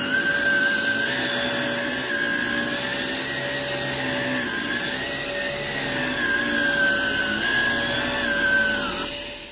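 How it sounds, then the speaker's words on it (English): Hoover ONEPWR Evolve Pet cordless upright vacuum running in carpet mode with its brush spinning fast, a steady loud whine with a high motor tone that holds for the whole stretch and drops slightly at the very end. "Now we're gonna go over to carpet mode. It's got a lot more suction. You can hear it."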